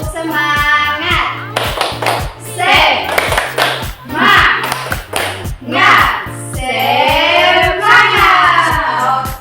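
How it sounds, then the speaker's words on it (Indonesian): A class of schoolchildren performs a rhythmic spirit clap, hands striking together in a brisk repeating pattern, close and loud, with young voices chanting along between the claps. "Tepuk semangat."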